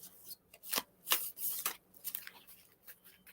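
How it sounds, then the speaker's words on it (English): Oracle cards are shuffled close up in quiet, brisk papery riffles and flicks coming in several short bursts with gaps between, soft and intimate with no talking. "I'm listening while I'm shuffling."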